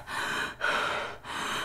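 A woman imitates panicked heavy breathing, three loud, close, rapid breaths in a row with short pauses between them.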